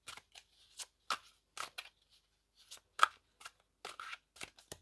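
A deck of steampunk oracle cards is shuffled by hand close up, producing sharp papery riffles and flicks in uneven clusters with short pauses, and no talking.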